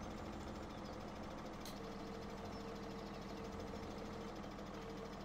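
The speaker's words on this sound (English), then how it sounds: "I don't even know if this tractor is capable of powering the manure spreader." A tractor engine, meant to power a manure spreader, idles in a steady low drone with faint knocking, no voices.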